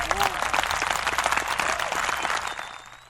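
Applause from an audience at a talk radio show rises steadily with scattered voices mixed in, then fades toward the end of the brief burst.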